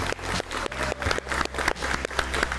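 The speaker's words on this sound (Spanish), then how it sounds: "Un aplauso para George Forsyth y suerte para él." A studio audience applauds George Forsyth at the close of a televised interview, with individual claps standing out in a fairly rhythmic pattern over music or background tones.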